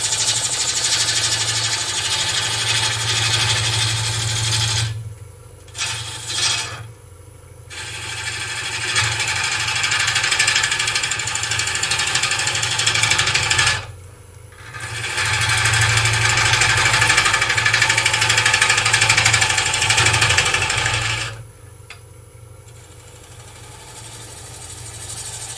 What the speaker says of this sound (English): Now I'm just twisting my gouge over and twisting myself away from the lathe to get a funnel at the other end.